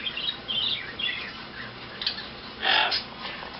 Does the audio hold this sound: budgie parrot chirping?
yes